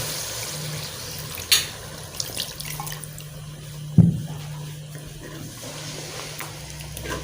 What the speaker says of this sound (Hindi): जितना का हमें पानी चाहिए वो डाल देते हैं